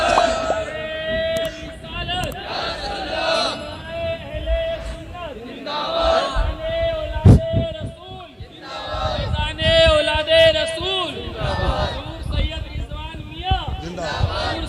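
Crowd at a religious gathering chanting back in unison in answer to the Naara-e-Takbeer call, many voices swelling in repeated loud waves over reverberant hall noise.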